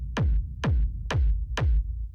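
Four loud, evenly spaced techno kick drum hits, each a sharp click dropping into a deep booming tail, unfiltered with full boxy low-mids, played alone in a dark techno style.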